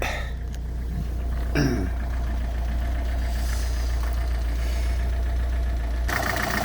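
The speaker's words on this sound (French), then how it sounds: "Donc le moteur tourne impeccable, pas de claquement, rien du tout." A Peugeot 407 2.0 HDi diesel engine with nearly 500,000 km idles steadily at close range, a constant low drone with faint mechanical ticking and a couple of brief clunks and rattles over it.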